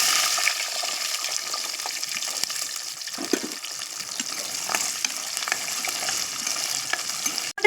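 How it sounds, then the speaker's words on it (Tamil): Mustard seeds, fenugreek and shallots sizzle in hot oil with a steady, close frying hiss, scattered pops and crackles and a few stirring scrapes, continuous throughout with no talk. "வத்தல் வறுத்த அதே எண்ணெயில கொஞ்சமா கடுகு சேர்த்துக்கலாம்."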